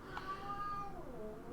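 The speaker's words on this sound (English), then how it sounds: "my cat's going crazy" A house cat gives one drawn-out, wavering meow, close and fairly clear, over a faint background hum.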